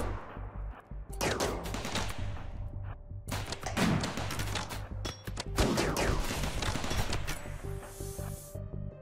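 A RimWorld: Royalty battle fills with clattering gunfire, with dense overlapping bursts and single shots popping nearly continuously at moderate loudness, with no talking.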